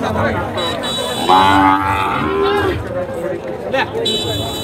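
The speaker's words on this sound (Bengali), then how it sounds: "শাহিওয়াল সুন্দর একটি বড় সাইজের বকনা" A Sahiwal heifer at a busy cattle market lets out a loud, drawn-out moo near the start, heard under steady crowd chatter and people talking close by.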